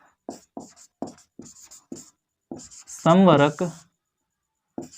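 Chalk or marker rubbing and scratching on a board in short strokes, spread through the clip, with one brief burst of a person's voice partway through.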